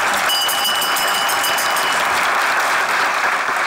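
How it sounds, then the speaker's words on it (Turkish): A studio audience on a Turkish TV comedy show bursts into loud, dense, continuous applause that holds steady for several seconds without a break. "Zillik alkışı aldı."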